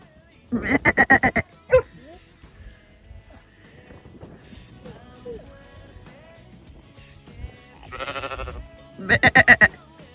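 Sheep bleat in loud bursts on a farm in France, a quick series near the start and another pair of calls toward the end, with quieter rustling and movement between them.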